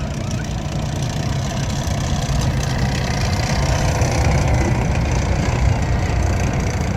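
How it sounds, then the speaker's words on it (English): A Canadian Lynx reconnaissance vehicle drives past at a tank museum display, its engine a steady, loud low rumble with broadband mechanical noise that holds throughout without a break. "First one coming through, the reconnaissance vehicle, is the Canadian Lynx."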